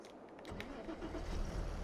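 Tractor engine in Farming Simulator 22 starting up and settling into a low, steady rumble that grows louder over about two seconds, with no talk over it.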